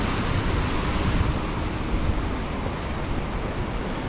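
Ocean surf gives a continuous broadband wash, loud and close, easing slightly in the second half, with no voices.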